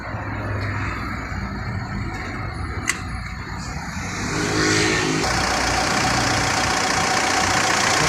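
A 2012 Mitsubishi Pajero Exceed diesel engine idles nearby with a steady rough clatter, then grows slightly louder and fuller partway through, with a brief click early on.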